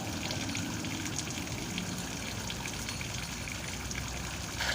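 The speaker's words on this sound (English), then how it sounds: "all the dirty sediment inside the water filter is being washed out" Steady rushing, gushing water flows continuously at close range from an external water filter during backwash, a dense churning wash with no pauses.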